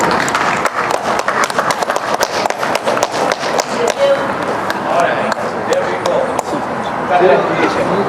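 An audience claps to welcome Dr. Bobby Kumar Kaloti at the Indian American Nights 2025 event in New York: dense, steady applause lasting throughout, loud and close, with crowd noise mixed in.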